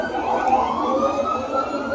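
An FDNY ladder truck siren wails continuously while responding to a car fire in a New York street, a steady, fairly loud rising and falling tone with no talk.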